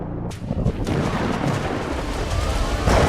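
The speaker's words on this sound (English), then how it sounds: "A massive tropical thunderstorm is building in the skies above them" Loud, deep rumbling thunder from a tropical thunderstorm rolls on continuously, booming and crackling close by with no voices.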